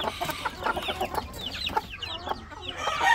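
Chickens cluck in short, scattered bursts close by, with a few chicks peeping among them and a faint farmyard background.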